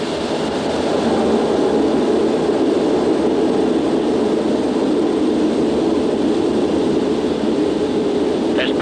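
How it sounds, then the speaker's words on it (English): Aérospatiale BAC Concorde jet engines at takeoff power, a loud, continuous broadband roar that fills the whole stretch without letting up, heard from inside the aircraft. "Okay, we're cleared for takeoff."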